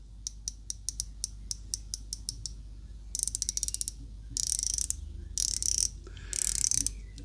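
The bezel of a Fawler RYKA outdoor watch turns with a series of crisp, faint ratcheting clicks, first evenly spaced single ticks, then quicker bursts of clicking, close up with no talking.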